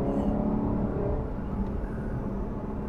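A 2018 Lexus LC500 engine accelerates hard and shifts quickly, a loud, continuous, throaty rumble with rising engine tones heard from inside the car and no talking.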